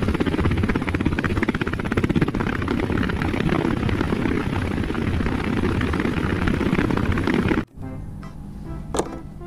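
A toy helicopter gives off a loud, steady whirring rotor drone close by, running continuously for several seconds before cutting off abruptly, followed by a few faint clicks.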